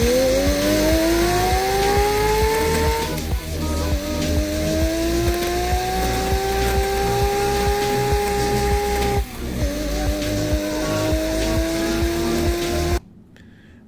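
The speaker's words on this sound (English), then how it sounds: "They're making a Lego engine." A Lego-built inline 13-cylinder engine running with a buzzing, whining mechanical drone that sags and recovers in pitch several times before cutting off abruptly near the end.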